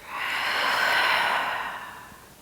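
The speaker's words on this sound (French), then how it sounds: "Expirez, relâchez par la bouche." A single long exhale through the mouth during a beginner vinyasa yoga flow, a breathy whoosh that swells and fades over about two seconds, close and alone.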